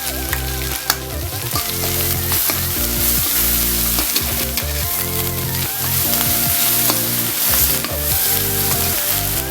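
Pounded chili and garlic with curry paste stir-fry in a hot wok for shrimp and squid holy basil stir-fry, making a loud, continuous sizzle with stirring scrapes over background music.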